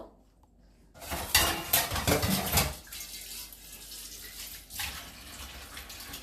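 Dishes being rinsed in water and loaded into a dishwasher: splashing water with clattering plates and cutlery in a short busy burst, then quieter rattles, no talk.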